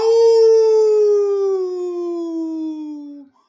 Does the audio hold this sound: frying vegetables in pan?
no